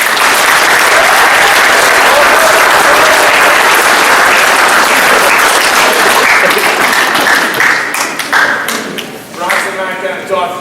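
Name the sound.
round of applause at awards banquet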